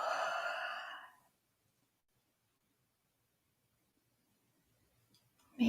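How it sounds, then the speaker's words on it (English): A deep breath during a closing yoga practice: one soft breathy exhale at the start, then near silence, with a faint sound returning at the very end. "taking a big inhale in, exhale, let it go."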